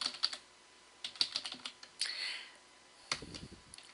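Someone types a login on a computer keyboard at close range, bursts of quick key taps separated by short pauses, clear and moderately loud with no talking.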